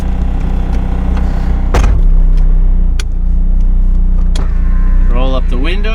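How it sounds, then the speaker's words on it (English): A Honda Del Sol with a B20 engine drives on the freeway, its engine and road rumble loud and constant inside the cabin, with a power window whirring and brief voices near the end. "I gotta drive it on the freeway"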